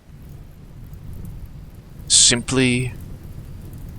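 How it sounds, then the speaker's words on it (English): Rain falls steadily in the video game RimWorld, a soft continuous hiss with a low thunder rumble beneath it. A voice speaks briefly partway through. "It began to rain."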